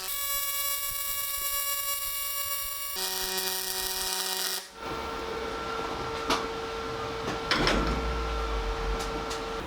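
A synergic pulsed MIG welder on an MP200 runs 316 stainless wire on stainless steel, giving a steady buzzing tone that shifts pitch partway through, then breaks off into a softer crackling hiss with scattered ticks.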